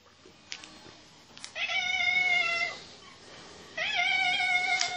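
A cat meows indoors, two drawn-out close meows separated by a short pause, with soft thuds before the first one and no voices.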